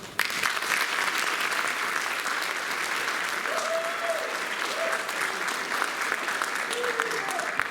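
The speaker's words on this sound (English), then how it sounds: "Let's give all of them a big round of applause." A school spring concert audience applauds the bands with a dense, sustained round of clapping lasting several seconds, steady and fairly close, with a few faint voices and cheers mixed in.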